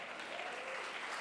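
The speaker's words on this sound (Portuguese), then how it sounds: "Você pode aplaudir ao Senhor" A church congregation applauds during a service, a brief dense burst of steady clapping from many hands filling the room.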